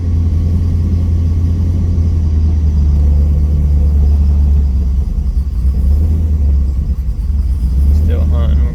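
A 6.0L WS6 V8 idling during a tune, a loud, steady low rumble up close with slight lope, someone talking over it throughout.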